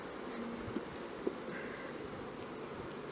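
Soft, steady buzzing of many honeybees in an open hive during a mid-September inspection, a low droning hum with a couple of faint clicks, fairly quiet and continuous.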